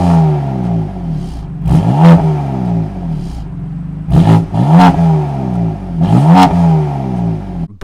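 A BMW F80 M3 with the S55 engine revs up through its exhaust three times, each rising snarl dropping back to a burbling idle, loud and close.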